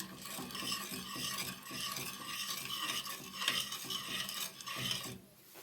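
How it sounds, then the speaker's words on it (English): Sugar being stirred in a pan until it dissolves for homemade golden syrup, a continuous scraping, rasping stir with rhythmic strokes, close and fairly loud, fading at the very end. "stir it in until it's dissolved"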